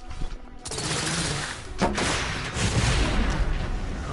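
Suppressive gunfire in The Order video game: a heavy, continuous barrage of shots and booming blasts, loud and close, rolling on with dense overlapping bursts after a brief quieter opening.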